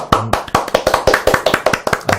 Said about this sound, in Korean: 박수 쳐야 되는 겁니다